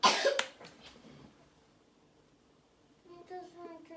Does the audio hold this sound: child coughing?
yes